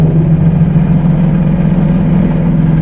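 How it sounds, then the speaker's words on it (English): A Jeep Wrangler engine idles with a steady low rumble, close and loud, its tone even and unchanging throughout. "let's listen to it idle here for a minute"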